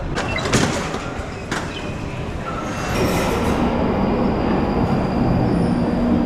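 A London Underground train rumbles and rattles on the rails, with wheel squeal and a rising roar as it runs, loud and close throughout.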